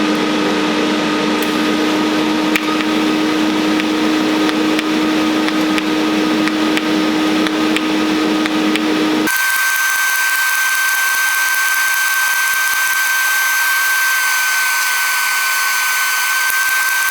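Pulse TIG welding on stainless steel with an AC/DC all-in-one welder, a steady buzzing arc hum that runs unbroken and close, shifting in tone partway through as the amperage changes, with no talking.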